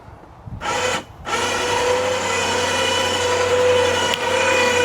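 An electric winch mounted on a golf cart whines and hums under load, starting with a short burst, pausing briefly, then running steadily and loudly for several seconds.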